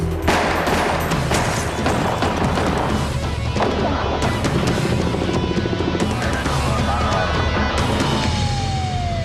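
Rapid bursts of gunfire crackle through a police shootout, dense and loud over a rumbling vehicle and street noise, with a siren-like tone sweeping down near the end and shots continuing throughout.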